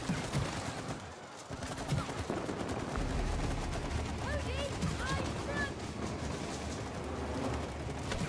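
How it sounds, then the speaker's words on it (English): Weapon fire at an enemy in the video game It Takes Two, a steady stream of rapid shots under excited talk. "I'm shooting him."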